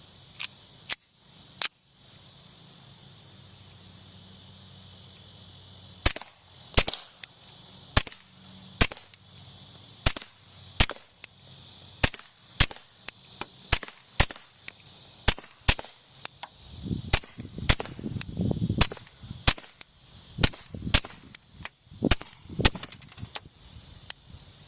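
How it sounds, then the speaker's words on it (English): Suppressed shots from a Walther P22 pistol fitted with an SWR Spectre II silencer, firing CCI Mini Mag ammunition: sharp, dry cracks, sparse at first, then a steady string of roughly twenty shots, with denser rapid fire near the end. "Spectre II,"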